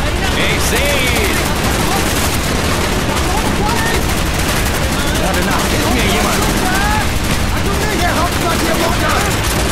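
Dense, continuous gunfire in Call of Duty: Black Ops crackles throughout, loud and chaotic, with rapid bursts and booms and voices shouting underneath.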